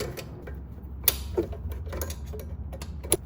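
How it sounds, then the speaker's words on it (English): A wrench works a 10mm bolt loose on the rear suspension of a BMW F30, making quiet creaks and intermittent sharp metallic clicks and ticks spaced irregularly over a low background hum. "there's just a bolt, 10mm bolt on the back that I'm going to take off"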